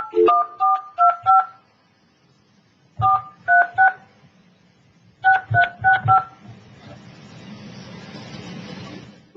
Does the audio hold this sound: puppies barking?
no